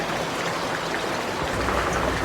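Rain falls as a steady, dense hiss that fills the whole short stretch, with no voices over it.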